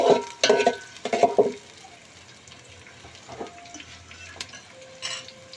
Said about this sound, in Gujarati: હવે આપણે એને હલાવી નાખશું અને આમને ઘડીક સડવા દઈશું